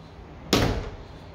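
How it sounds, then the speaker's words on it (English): A laundry room door in a house is pushed shut with one sharp, loud thud close to the mic, and a short rumble fades out after it. "Let's close the laundry room door."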